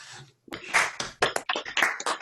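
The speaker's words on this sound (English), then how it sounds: "I wonder if everybody could unmute and give Professor Mags a round of applause for an amazing talk" Online audience applause after a talk on seaweed, scattered claps and taps arriving in uneven bursts over a few seconds, fairly faint and unsynchronised, with no voices during it.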